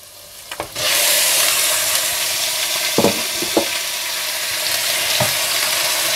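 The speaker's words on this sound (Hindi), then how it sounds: "तो मिर्च पाउडर नमक हल्दी और कुटी लाल मिर्ची डालकर अच्छा सा भून लें" Minced keema sizzling in a hot pan, a loud steady frying hiss that starts abruptly after a second, broken by a few sharp clacks of stirring.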